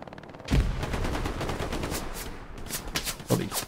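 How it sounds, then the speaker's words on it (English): A machine gun in the Hell Let Loose battlefield fires a rapid, sustained burst of shots that sound somewhat distant, with a sharper shot at the end. "MG going off down there."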